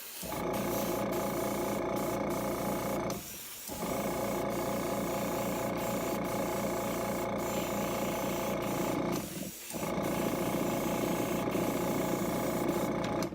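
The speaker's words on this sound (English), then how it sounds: "Let's see if we can spray this." A loud, continuous hissing spray runs in long bursts, cutting off briefly twice before resuming, with a mechanical buzz underneath.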